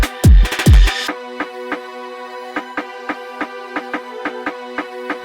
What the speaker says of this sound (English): filter out the frequencies of the counter snare by the end of the bridge over here